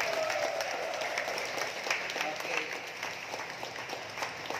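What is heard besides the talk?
lively applause for the Lord in church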